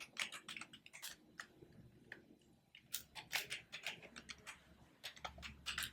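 Rapid, uneven typing on a computer keyboard while writing C code, a dense run of clicky keystrokes in bursts with short pauses, close and fairly quiet.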